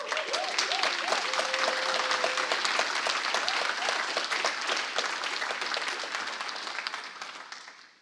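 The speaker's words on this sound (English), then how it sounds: "let's start with a round of applause" Sustained applause from a conference audience at a EuroPython 2024 CPython core development panel, dense steady clapping that holds for several seconds with a brief tonal whistle early on, then gradually fades out.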